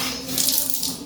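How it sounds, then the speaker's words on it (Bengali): Running water splashes steadily as an arm is washed during wudu, a continuous close hiss with small surges and no voices. "বাম হাতের কনুই সহ 3 বার ধোয়া সুন্নাত।"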